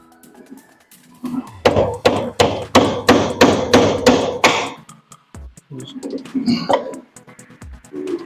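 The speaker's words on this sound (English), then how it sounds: "I take my hillbilly chisel" A chisel is struck into wood while building a plant trellis: a rapid series of about eight loud, evenly spaced knocks, then a few scattered taps and scrapes close by.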